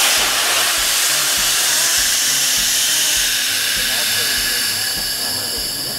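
Avalanche airbag packs on snowmobile riders inflating together, a loud steady rushing hiss of air filling the bags for several seconds with a faint low pulsing underneath, fading slightly toward the end.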